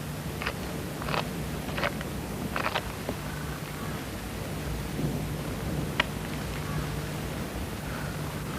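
Steady rain falls with a faint low rumble of thunder, a soft continuous hiss broken by scattered brief crackles and taps, fairly quiet and distant in feel.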